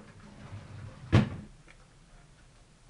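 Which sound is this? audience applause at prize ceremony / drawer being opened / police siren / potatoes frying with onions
drawer being opened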